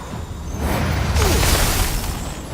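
Hail Strike spell cast in Divinity: Original Sin 2 Definitive Edition, a broad swelling whoosh of icy impacts that builds to a loud rumbling crash in the middle and lingers to the end.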